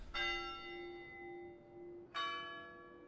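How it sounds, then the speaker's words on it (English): Two struck bell tolls from the game In Vino Veritas, each a bright metallic strike with a long ringing decay, the second coming about two seconds after the first. "Yo, our bell got rung."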